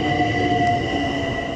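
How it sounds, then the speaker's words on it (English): Train 378147 arrives at Sydenham station with a steady, loud electric hum and rolling rumble, a high motor whine holding level over the full stretch, with no talk. "We have a train coming in."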